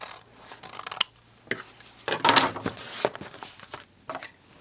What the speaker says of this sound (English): so that I can cut some of that off, trim that off